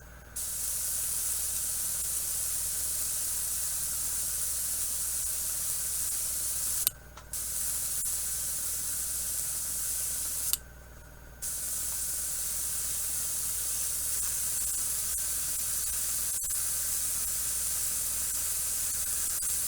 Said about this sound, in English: There's my old compressor kicking in.